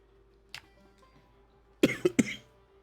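A person coughs: one small cough, then a pause and a quick cluster of three sharp, close coughs in a row.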